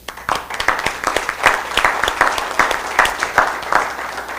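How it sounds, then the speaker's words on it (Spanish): Audience applause at a panel discussion event in Panama, a steady wash of many hands clapping through the whole stretch, fairly close and dense, with a few louder individual claps standing out. "un aplauso para ustedes también"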